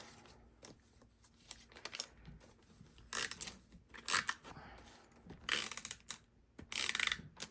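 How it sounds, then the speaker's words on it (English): A tape runner laying tape in a paper journal gives a few short scratchy, clicking pulls spaced over a near-silent background, close up and quiet. "So let's get the tape runner here."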